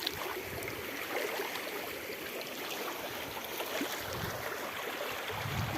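Water moving steadily around someone wading into a cold stream on a barangay picnic outing, a continuous close rush and trickle with faint splashing, no voices.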